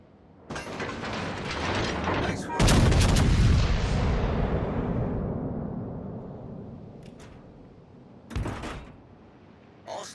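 A warship's big naval guns in World of Warships fire a heavy salvo that rolls into a long decaying rumble, with a mechanical clatter at the start and another sharp report near the end.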